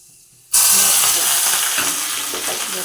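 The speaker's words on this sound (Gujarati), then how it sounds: "તેલ ગરમ કરવા મૂકી દીધું છે, ફૂલ રાખ્યું તો તપેલી થોડીક બળી ગઈ. તો જો આપણે એમાં નાખશું રાઈ" Mustard seeds dropped into oil heated on full flame in a slightly scorched pot burst into a sudden loud sizzle. It hisses and crackles steadily after a quiet start.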